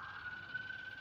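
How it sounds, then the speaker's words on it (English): An emergency vehicle siren sounds outside, a steady wailing tone held at moderate distance over faint background rumble. "Excuse the sirens."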